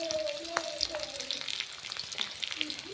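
Onions frying in a pan in a home kitchen, a steady soft sizzle with occasional clinks and stirring, with faint tonal hums in the background.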